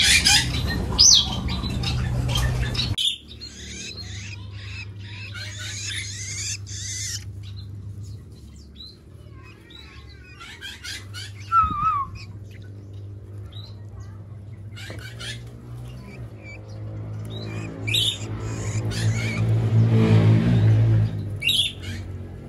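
A caged sooty-headed bulbul (kutilang) gives short chirps and squawky calls in bursts, loudest at the start, over a steady low hum and light pattering household noise.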